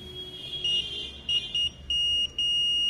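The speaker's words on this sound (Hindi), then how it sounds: "देखिए बर्जर बाज रहा है" A tester's buzzer beeps repeatedly while checking an AUO TV panel with a scan driver fault, giving several steady tones of uneven length with short gaps, loud and close over a low hum.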